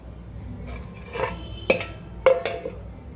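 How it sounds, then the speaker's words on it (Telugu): A spoon clinks and scrapes against a bowl as leftover idli batter is mixed with water, a few sharp knocks rising over quiet stirring, close and alone with no talk. "వాటర్ పోసుకొని ఇలా కలుపుకొని పెట్టుకోవాలి"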